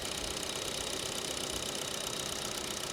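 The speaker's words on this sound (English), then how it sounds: "It's a very quiet engine." Lexus double overhead cam 16-valve engine idling with a steady, quiet, even hum and faint mechanical ticking, heard up close with no talking.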